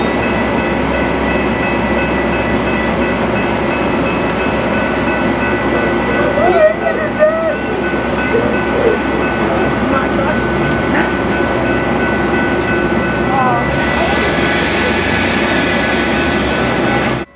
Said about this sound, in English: This inbound revenue train was running cab car forward and being shoved by one of Metra's newer EMD